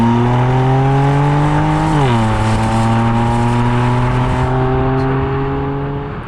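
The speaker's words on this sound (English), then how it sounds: "And it's got a nice engine note to it." A BMW M2 Competition's engine drones loudly from inside the car while driving, a smooth steady tone that dips sharply once as if shifting gear, then holds before fading slightly at the end.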